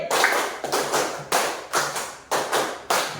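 A school class claps a counted rhythm in a classroom, sharp bursts of group clapping in quick clusters separated by short pauses, with no talking.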